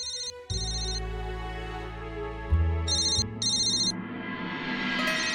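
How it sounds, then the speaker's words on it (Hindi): An electronic ringtone trills in repeated bursts, separated by short pauses, over a low steady hum. "जरा फोन उठा, घंटी बाज रही है।"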